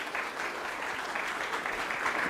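An audience at a business school conference and awards event in Bangalore gives a round of applause for a guest speaker, steady, dense clapping at moderate volume filling the whole moment without speech.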